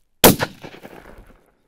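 Hunting rifle fired once while sighting in, a single loud, sharp report that cracks out abruptly and then rings and echoes away over about a second, with no talk.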